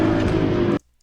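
A BMW M3 Compact on the Zolder race track gives a loud, steady engine drone that cuts off abruptly near the end, leaving near silence.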